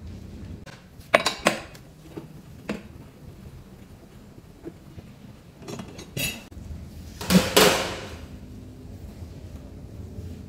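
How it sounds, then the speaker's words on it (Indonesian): A T12 T-wrench removes the rear grab rail bolts on a 2024 Honda Vario 160 scooter, giving sporadic metallic clinks and scrapes at close range, some sharp and a few clustered together, against a quiet background. "Yang pertama kita lepas adalah behel belakangnya dengan kunci T12"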